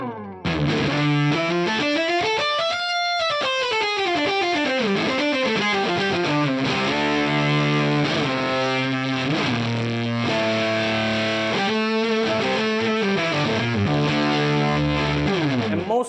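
An electric guitar through a fuzz pedal, neck pickup with the tone rolled fully off, plays a continuous smooth synth-like melodic line with sliding pitch and no pick attack, loud, dense and steady for about sixteen seconds.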